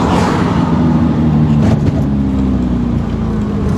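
A 1955 Aston Martin DB2/4 drop head coupe with a roughly 120-horsepower engine drives steadily, its engine note a continuous close drone with a brief rise partway through and no voices.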